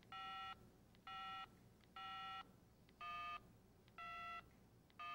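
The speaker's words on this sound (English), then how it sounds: "To place a call, enter the telephone number." Keypad beeps from a Motorola Model 27722 cellular telephone while dialing a number, six evenly spaced tonal beeps about half a second each, clear and alone against a faint background hiss.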